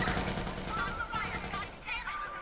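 Bursts of rapid gunfire from Watch Dogs 2 during a police chase, with quick repeated shots over a busy game soundscape.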